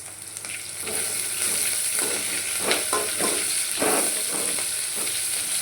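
Onions frying lightly in a pan for tomato rasam make a steady close sizzle. Now and then a spoon stirs them with soft scraping strokes.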